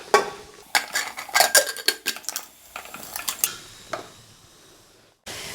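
A pressure cooker lid clanks shut over boiling ash gourd in a home kitchen: a run of sharp metallic clinks and scrapes of varying loudness, close by, ending in a brief steady hiss.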